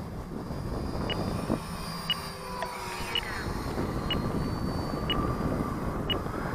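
A Freewing Rebel V2 electric RC jet flies in for landing in a stiff crosswind, its ducted-fan whine steady and fairly distant under wind noise, with faint periodic beeps.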